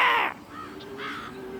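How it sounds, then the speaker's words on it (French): A crow gives one harsh, fairly loud caw outdoors, followed by a couple of softer, rasping calls, with steady background noise underneath. "Ah, le corbeau, là, t'as entendu?"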